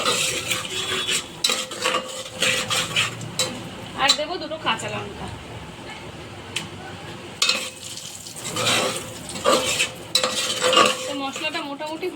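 Spices with turmeric powder being stirred and fried in a pot for khichdi, with repeated metal spoon scrapes and clanks against the pot over a low sizzle, close by and irregular, with brief pauses.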